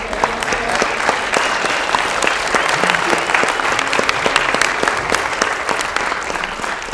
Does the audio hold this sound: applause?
yes